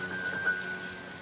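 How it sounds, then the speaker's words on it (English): Steady cartoon rain patters evenly on a surface, giving a constant soft hiss with a faint tone underneath and no voices. "Oh no, it's raining."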